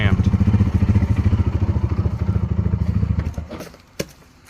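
A Polaris RZR 200 engine catches and runs loud and close, a rapid steady thrum with rattly clatter for about three seconds before it cuts out, followed by a sharp clunk in near silence.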